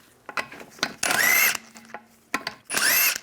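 Power tool zipping out lug bolts from a 1998-2010 Volkswagen Beetle rear wheel in two short whirring bursts, with clanks and ratcheting clicks in between; close up.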